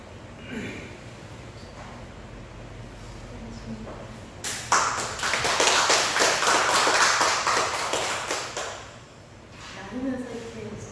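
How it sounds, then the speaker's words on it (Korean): A church congregation applauding in a fellowship sharing session, with a burst of clapping of several seconds, close and fairly loud, coming between stretches of quiet room sound with murmured voices. "나누면서 이렇게 박수를 받아보는 처음인 것 같아요"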